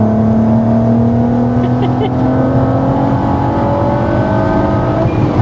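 Supercharged 360 bhp Mk4 VW Golf R32 with a manual gearbox, its engine holding a steady loud drone with harmonics rising slowly as revs climb, continuous throughout and close by, with voices talking under it.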